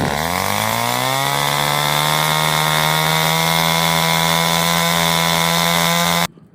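A pipe for a rust bluing steam apparatus is cut in two with a power saw, a loud, steady, close buzzing drone with strong harmonics that runs unbroken for about six seconds before stopping abruptly.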